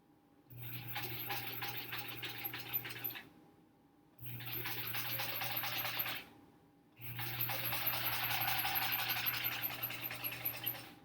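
A sewing machine chain-pieces quilt blocks in three long, steady runs of fast stitching, each a continuous whir with brief pauses between runs, close and fairly loud.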